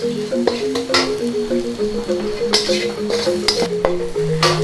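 Chili paste sizzles steadily in a hot pan while a utensil stirs and scrapes it, giving a continuous frying hiss marked by repeated sharp scraping strokes against the pan.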